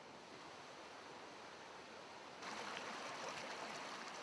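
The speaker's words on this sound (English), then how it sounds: "we're actually shooting the runoff in the stream from a bridge" Rushing runoff of a stream at the base of Bridal Veil Falls in Yosemite Valley, a steady broadband wash of water that grows noticeably louder and brighter partway through, with no voices.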